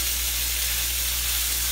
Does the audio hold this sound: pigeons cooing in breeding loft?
no